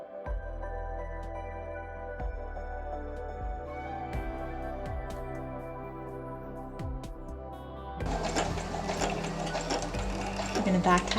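Sewing machine stitching a cloth face mask, a steady motor whir with rhythmic stitch ticks running throughout, growing louder and busier near the end.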